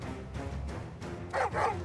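An Akashic dog creature in Final Fantasy XVI gives two short growling yelps over a rumbling game background, close and fairly loud.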